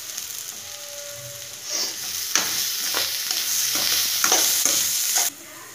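Chopped vegetables sautéing and being stirred in a hot pan for a paniyaram batter, a steady quiet sizzle with scraping stir strokes growing busier, no voices.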